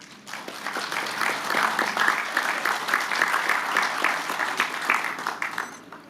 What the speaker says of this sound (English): can you all please just give me a round of applause for Pat?